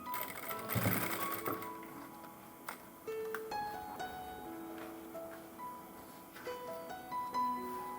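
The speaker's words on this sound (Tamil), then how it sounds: "திருப்பி விட்டுட்டு இந்த சைடில் ஒரு தையல் தைச்சிடலாம்." Sewing machine stitching the seam of a model blouse at the shoulder joint, a steady soft mechanical whirring with short stops and starts, close but fairly quiet, with no talk.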